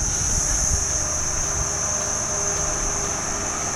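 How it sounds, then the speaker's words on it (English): Insects and crickets in a Thai jungle give a steady, dense high-pitched chirring drone that runs unbroken throughout, with low rumbling ambient noise beneath. "All those little cricket things."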